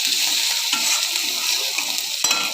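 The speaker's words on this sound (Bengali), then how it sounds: "এবার আমি এটাকে নেড়ে দেবো।" Ginger and garlic frying with tomato and onion in a pan for a fish curry with whole potatoes, stirred: a steady, loud close sizzle with soft scraping strokes throughout, no voices.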